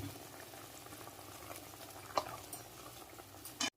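A pot of sugar syrup bubbles and simmers gently and steadily on a low flame at close range, with a few soft pops and a faint clink near the end.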